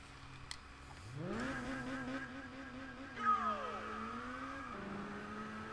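A Lotus car in Test Drive Unlimited Platinum revs and accelerates, its buzzing engine note climbing in pitch, dipping and rising again as gears change, moderately loud and steady with no voices.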